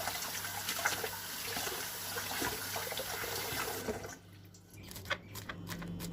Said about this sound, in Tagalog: hugasan naman natin itong celery kasi minsan din may mga soil